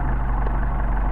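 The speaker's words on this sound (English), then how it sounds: "engine to warm up." Steady close idle of a cold Mercedes 190SL engine on Solex carburetors as it warms up in freezing weather, an even low rumble with no voices over it.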